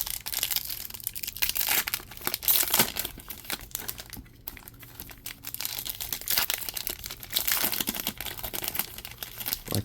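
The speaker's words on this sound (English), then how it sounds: "Rip open these packs. Rip them and stack them." Foil trading card packs are torn open and handled up close, with continuous crinkling, crackling rips and rustling in quick irregular bursts, no talking.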